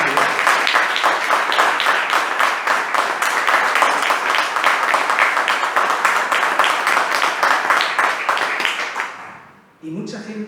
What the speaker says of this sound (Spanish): para los que pido un fuerte aplauso